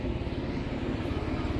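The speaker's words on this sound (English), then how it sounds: "we're right next to the hospital, so we get a lot of helicopters flying over" A helicopter flies over near a hospital, heard as a steady low rotor and engine rumble that fills the background for a short, unbroken moment, with no voices.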